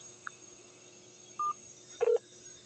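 A few telephone keypad tones sound in a quiet line, one short beep followed by a brief double tone, faint and isolated.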